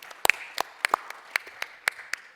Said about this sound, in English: Everyone's have a warm round of applause for Luca.